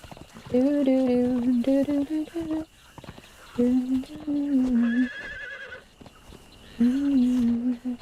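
Horse in the game Conan Exiles, whinnying and neighing with strong tonal cries in three bursts, and a brief higher squeal in between.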